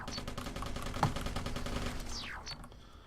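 Rapid automatic gunfire from robots battling each other in the sci-fi shooter Interstellar Marines, a dense rattling stream of shots at moderate volume that tapers off near the end.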